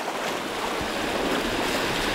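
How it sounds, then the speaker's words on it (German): A wild river rushes and picks up speed down a drop while paddlers canoe it on a trip through Romania, a dense, loud, continuous roar of churning water with no talking. "Und wie er urplötzlich beschleunigt, der wilde Fluss."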